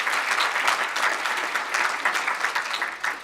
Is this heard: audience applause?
yes